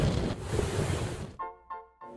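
Strong wind at a Nosara, Costa Rica surf beach roars and buffets the microphone, then drops away to leave a few short tonal calls.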